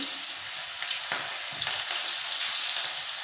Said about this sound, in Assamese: এতিয়া তেলখিনি গৰম হৈ আছে, তাত মই পিঁয়াজ দি দিলোঁ।